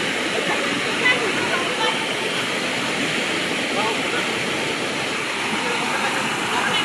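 Rushing floodwater roars in a steady, dense wash of broadband noise, continuous and close with no pauses.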